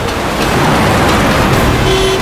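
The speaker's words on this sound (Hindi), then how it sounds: "अरे क्यों हॉर्न मार रहा है?" A car horn honks in dense road traffic, a loud toot cutting through steady engine and street noise, with no talk.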